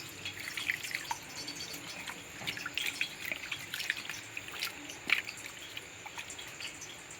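Water drips and trickles as fresh clam meat brought from Alappuzha is rinsed again, with soft splashes, a few small taps and a sharper plink near the end, close and fairly quiet.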